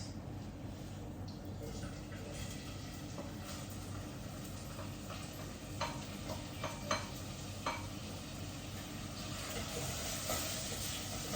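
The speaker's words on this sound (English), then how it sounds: "Then we're going to pan sear the onion." Chopped onions sizzling in hot oil in a pot, a constant low frying hiss with occasional stirring scrapes and clicks, faint and close, without speech.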